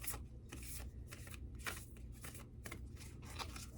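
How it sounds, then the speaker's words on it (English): Cards being shuffled in quick, repeated riffling bursts, close and crisp, with no talking. "I feel like I need to shuffle though"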